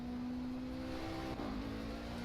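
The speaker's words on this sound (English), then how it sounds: "Today we have the Alpine A450 going around." An Alpine A450 race car in the racing game Project Cars, on the Nürburgring, holds a steady, droning engine note that dips briefly in pitch, as if shifting, before settling again. The sound is alone with no talk.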